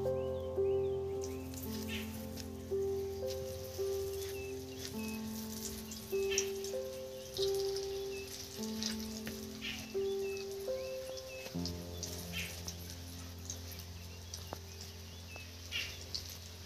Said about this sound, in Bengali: এবার দেখুন তেলটা তেতে গেছে, আর আমি এই ধোকাগুলো এর মধ্যে দিতে থাকবো।